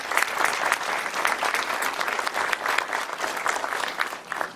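A civic audience applauds sponsors at a city event, steady dense clapping that holds at an even level throughout before easing slightly at the end.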